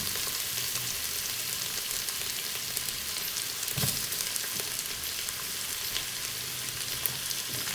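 Onion frying in a pan for a chicken pulao sizzles steadily and fairly loudly, a constant hiss with a brief clatter near the middle, no voices.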